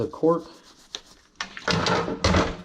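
Cleaner is worked by hand into a cork fishing rod handle, making close, dry rubbing and scrubbing strokes that grow steadier and louder after a few faint knocks and scuffs.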